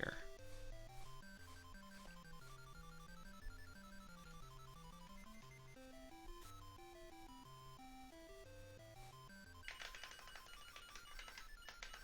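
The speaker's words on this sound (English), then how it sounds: "let's answer the phone." A chiptune melody from the Barbie Pet Rescue Game Boy Color game plays, then a bright, rapid electronic telephone ring trills loudly near the end.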